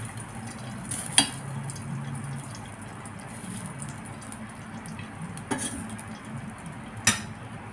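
Hot oil for deep-frying taro balls bubbles and sizzles steadily in a pan, with a few sharp metallic clinks of utensils against it.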